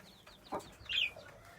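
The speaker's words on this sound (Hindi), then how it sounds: "बाकी हमारी मुर्गी" A domestic hen among a home flock of pet birds gives a couple of soft clucks followed by a brighter squawking call, fairly quiet against low background noise, with no talking.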